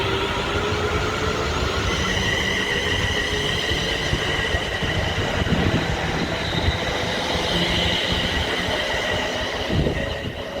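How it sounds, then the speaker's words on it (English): A train runs steadily through a station on its way to Birmingham Street, a sustained loud rumble of wheels on rail with faint squealing and no voices over it. "Everyone, that was going now to Birmingham Street now. Gone."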